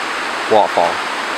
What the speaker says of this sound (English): Basically just this little stream with a waterfall.